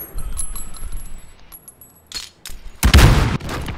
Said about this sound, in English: Aku dengar bunyi grenade je.